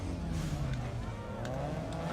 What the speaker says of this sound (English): Can't believe I over-revved it.